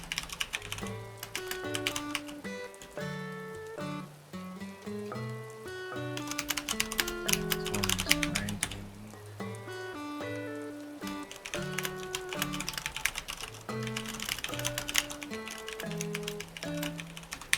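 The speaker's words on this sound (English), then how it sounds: "I hear myself typing on my keyboard." Fast typing on a computer keyboard, with keystrokes clattering continuously throughout and tuneful game music playing alongside.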